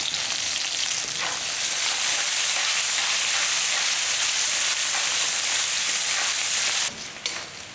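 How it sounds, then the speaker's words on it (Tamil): Onion, garlic and curry leaves sauté in hot oil in a pan, a loud, close, continuous hissing sizzle that holds steady and drops away briefly near the end, with no voices. "வெங்காயம் பூண்டு கருவேப்பிலை நல்லா வதங்கிடுச்சு"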